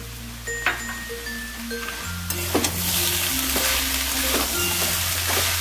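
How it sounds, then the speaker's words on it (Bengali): Chopped banana flower fries with spices and soaked chickpeas in a pan, a gentle steady sizzle broken by occasional scraping and clinking stirs, with a mechanical hum steady underneath. "এভাবে প্রায় 5 মিনিটের মতন আমি মোচার সাথে মশলাটা কষাবো"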